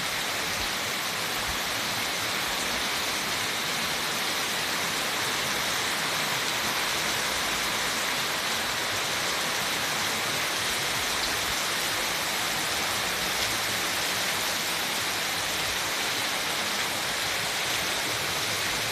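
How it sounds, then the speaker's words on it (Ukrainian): Heavy rain pours down steadily and loudly over fields and a garden, a dense continuous hiss of water with no letup and no voices. "Просили, дощу випросили"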